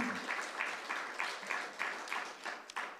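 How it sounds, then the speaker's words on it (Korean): Church congregation applauding during a Sunday worship service, a steady wash of many hands clapping at moderate distance with a faint rhythmic pulse running through it. "큰 박수 주시기 바랍니다."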